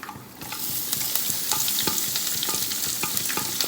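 Sliced onion sizzles steadily in a hot pan at home while a spoon stirs it, giving close, repeated scraping strokes over the continuous frying hiss.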